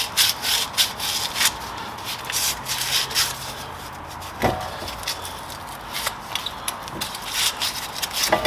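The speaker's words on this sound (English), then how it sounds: "just taking some sandpaper, getting all the corrosion out of here" Sandpaper scrubbing corrosion off a Ford Fusion front wheel bearing hub, close rapid bursts of rough rubbing with short pauses and an occasional metallic knock.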